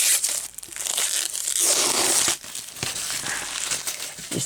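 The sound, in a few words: unwrapping a crinkly roll of adhesive school-book covering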